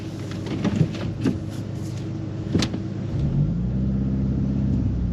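A manual-transmission car accelerating through the gears on city streets: a low engine rumble with a few sharp knocks early on, then a steadier rising drone, close and moderately loud.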